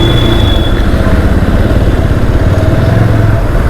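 A motorcycle engine runs close and loud while riding in heavy traffic on a rough road, with a steady low rumble and throb and no pause throughout.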